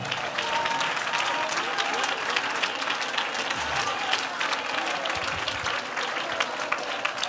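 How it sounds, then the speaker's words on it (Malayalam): A church congregation claps together during a Malayalam Christian sermon, a steady, dense roll of applause filling the room for several seconds with no break. "കൈയടിക്കട്ടെ, നേരെ കൈയടിക്കണം"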